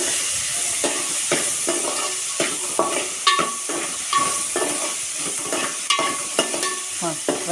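Tamarind pulp hitting a hot frying pan of reddish-fried ingredients, with a steady sizzle and repeated scraping stirs close by.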